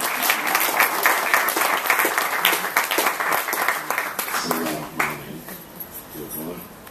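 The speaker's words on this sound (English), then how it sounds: "allowed to clap me, by the way." An audience applauds with sustained, dense clapping that gradually thins out toward the end, with a voice speaking briefly over it.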